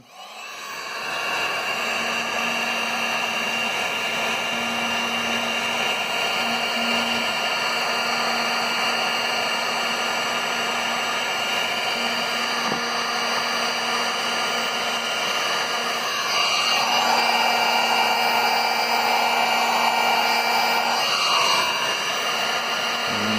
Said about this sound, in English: Now I'm going to heat it up with my heat gun.